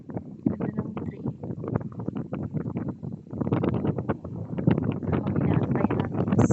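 Strong wind at a seaside ferry stop buffets the microphone in loud, gusty rumbling bursts that keep going without a break, growing rougher in the second half.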